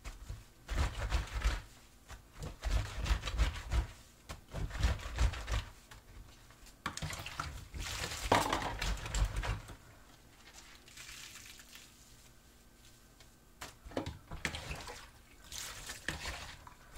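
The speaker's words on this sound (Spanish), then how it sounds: "Dale abrí tantito la llave y miren cuánta agua se junta." Kitchen tap water running in bursts while a kitchen rag is washed and wrung, splashing and trickling on and off with quieter pauses between, close by.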